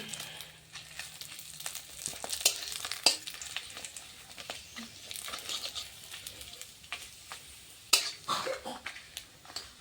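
Papad frying in hot oil: a steady, crackling sizzle with bursts of sharp pops and crinkling snaps, close and fairly quiet, with no talk.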